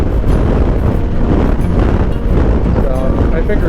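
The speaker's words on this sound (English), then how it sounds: "A little windy" Strong wind buffets the microphone outdoors near Wind Cave National Park, a loud, continuous roaring rumble with no break.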